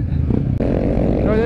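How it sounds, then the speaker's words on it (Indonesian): A motorcycle exhaust, muffled and covered over, rumbles close and continuous for a brief moment with a low throbbing pulse. "Suara knalpot aing ketutup, cu."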